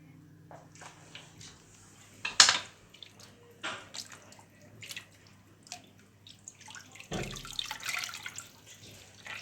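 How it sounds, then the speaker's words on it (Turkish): Water wrung by hand from boiled yufka pastry sheets for a baked su böreği, heard as faint intermittent drips and splashes with a brief louder splash and a final trickling squeeze, quiet and close. "Suyunu iyice sıkıyoruz arkadaşlar."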